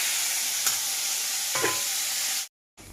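Washed drumstick flowers with salt and turmeric fry and are stirred in a pan, a dense close sizzle with a couple of spatula scrapes before it cuts off abruptly near the end.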